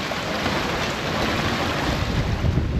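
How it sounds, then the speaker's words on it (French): Ocean waves slap steadily against a sailboat hull on an Atlantic crossing, a continuous loud wash of surf with repeated splashing hits and wind noise on the microphone throughout. "On prend des belles vagues, ça vient, ça claque sur la coque."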